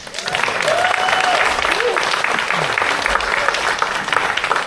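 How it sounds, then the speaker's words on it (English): Audience at a volunteer appreciation event for a fire department CERT program clapping in a steady, fairly loud burst, with faint voices mixed into the applause. "So round of applause for Mike"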